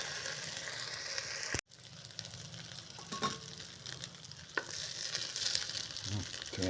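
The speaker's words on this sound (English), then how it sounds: "এইটো অলপ দেৰি ফ্ৰাই হ'ব দিম" Basmati rice and masalas fry in a pan for an Assamese egg pulao, giving a low crackling sizzle with a sharp clunk and occasional stirring scrapes.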